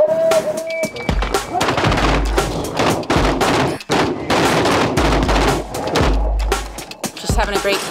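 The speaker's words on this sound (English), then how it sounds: "Having a great time out shooting, finally." Rapid gunshots from several firearms ring out at an outdoor shooting range, a dense mix of sharp overlapping shots and bursts with brief pauses, loud and close throughout.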